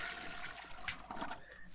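A toilet flushes in The Sims 4 video game, a short rushing and gurgling swirl of water that trickles away and fades at the end.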